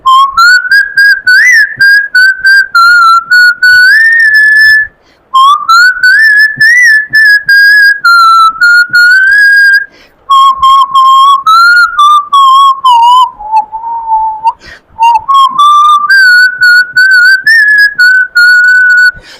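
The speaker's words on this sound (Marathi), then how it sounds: "मी शिट्टीतून गाणं म्हणून दाखवणार" A person whistles a song melody alone, a loud, clear tune of sustained and gliding notes in phrases, with two brief pauses between them.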